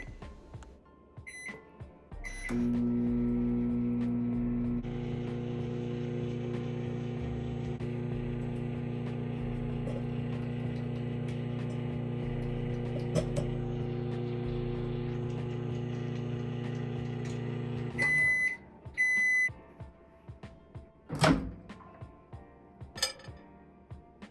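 A microwave oven cooks eggs without oil for about fifty seconds, its steady electric hum and whir running unbroken and close, with clinks of dishes before it starts and after it stops.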